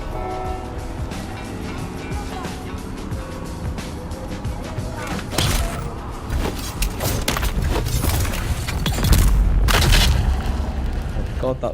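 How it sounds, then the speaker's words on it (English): Grenade blasts and booming combat in the video game Dune Awakening, heavy thuds and explosions rumbling under near-constant talking, with the loudest low blast toward the end. "You must have chucked the grenade or something."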